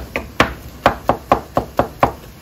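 Wooden spatula breaking up ground meat cooking in a pan, seven or eight sharp, evenly spaced scraping knocks against the pan, close and fairly loud with no talk.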